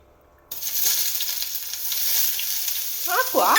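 Onions frying in a pan for Maggi noodles: a steady, close sizzle begins abruptly and runs continuously, with a brief scraping stir near the end.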